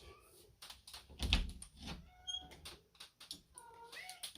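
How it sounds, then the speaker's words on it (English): A cat meows repeatedly from behind a closed door in a house, a series of short, fairly close cries mixed with thumps against the door, with a little speech. "She's screaming because my door's closed."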